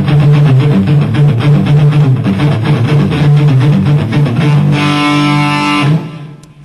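Distorted electric guitar plays a classical piece with a steady low pedal-note pattern, loud and continuous, ending in a sustained chord that cuts off at the close.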